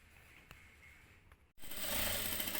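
A sewing machine stitches the shoulder seams of a vest and its lining, starting abruptly after a quiet pause and then running steadily and fairly loud for about a second.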